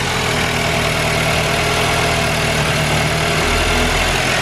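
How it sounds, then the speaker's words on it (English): A Mk8 Golf R or 8Y S3 fitted with a Racingline R600 intake idles steadily just after starting, a loud, close, continuous engine hum with no talking. "I'll start the engine and put my finger on it, see if we get any vacuum"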